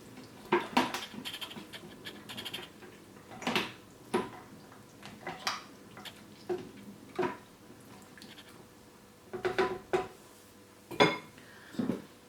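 Vegetable stock and gravy ingredients are mixed in a bowl for slow-cooked beef short rib gravy, giving a dozen scattered clinks and scrapes of a utensil against the dish, close and moderately quiet, with no talking.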